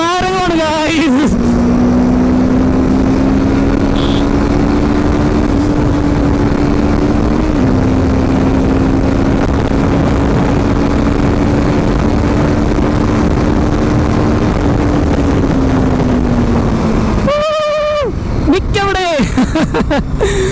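A TVS Apache RTR 310 motorcycle ridden hard in supermoto mode, its engine holding a steady loud drone with wind rush for most of the ride before easing off near the end, while a rider talks over it.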